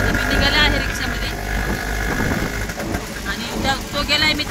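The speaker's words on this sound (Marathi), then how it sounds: "आता मी निघाले आहे रिक्षामध्ये" An auto rickshaw engine drones and rattles during the ride, a continuous close motor hum with road noise underneath while people talk over it.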